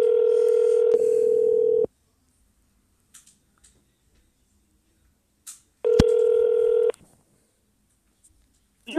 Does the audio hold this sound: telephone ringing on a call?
yes